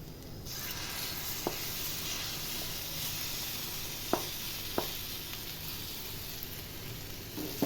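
Prawns frying in a thick masala in a pan, a steady close hiss and sizzle with a few sharp isolated pops and ticks spaced through it, no voices.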